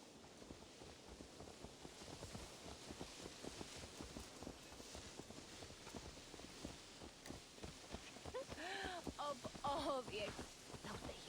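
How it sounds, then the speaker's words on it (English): Horse hooves clip-clopping in the Assassin's Creed Valhalla video game, a steady run of rhythmic hoof falls at moderate distance, with voices speaking briefly toward the end. "Let's return the horse."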